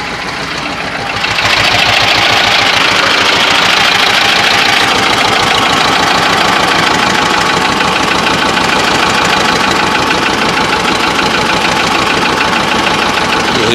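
A T-25 tractor engine with a hydraulic power steering pump runs loud and close, a steady rapid knocking diesel idle that holds constant after a brief rise at the start, with no talk.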